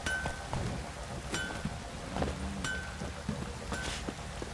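Steady rain from a downpour in The Witcher 3 hisses throughout, with faint clinks and occasional sharper ticks over a low rumble; no voices.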